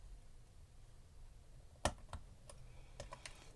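Angled cut with a utility knife during an ink and paper craft session: a single sharp slicing click, then a few faint scattered clicks and taps, quiet and close, with no talking.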